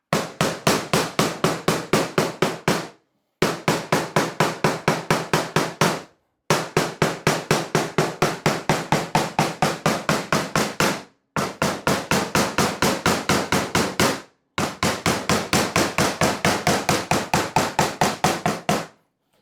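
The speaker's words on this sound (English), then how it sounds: "I'm using a bigger hammer, so I haven't got to work so hard." A hammer taps rapidly and evenly along the edge of an aluminium kit car fairing panel in five long runs of quick, ringing blows, each run separated by a brief pause.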